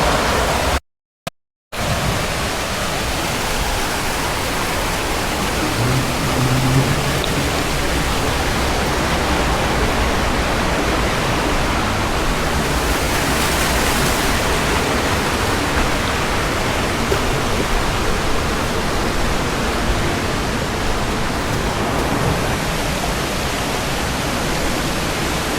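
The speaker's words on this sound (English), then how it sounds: "It's like an adventure to walk on the slippery rocks toward this waterfall, but this is just a small one." A small waterfall pours over slippery rocks in a woodland riverbed, giving a steady, broadband rushing wash that stays constant and close for the whole stretch apart from a brief cutout near the start.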